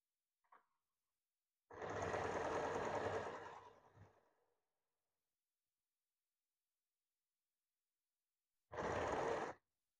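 A sewing machine stitches a blouse in two separate runs, one lasting about two seconds and a shorter one near the end, with a tiny click at the start and silence between.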